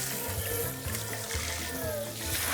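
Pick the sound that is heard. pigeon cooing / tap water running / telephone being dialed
tap water running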